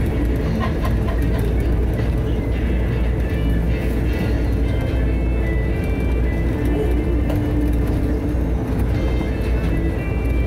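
Las Vegas Monorail train riding along its elevated track on the east side, a loud continuous rumble and hum from inside the car with steady wheel and motor noise.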